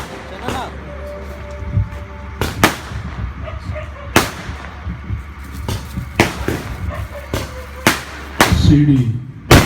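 Firecrackers burst at a gathering, sharp loud bangs going off irregularly one after another, some close together, with people talking faintly in between.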